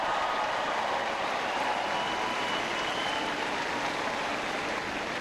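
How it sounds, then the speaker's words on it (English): Faint, distant crowd applause fills the whole stretch as a steady wash of clapping from a large audience gathered for a speech at CU Boulder. "Give him a big round of applause for having me here today."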